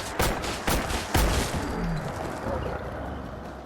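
Remington Model 11 shotgun in Fallout 4 firing Dragon's Breath incendiary rounds: three loud, sharp blasts in quick succession, each with a booming low tail, followed by a lingering rumble of ambient noise.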